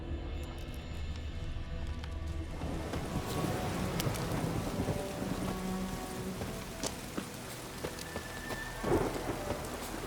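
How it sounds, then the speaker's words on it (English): Steady rain pours with rolling thunder in a thunderstorm in The Witcher 3, a dense hiss of falling water throughout, with a deeper rumble and a few louder cracks toward the end, no talking. "A storm, damn it."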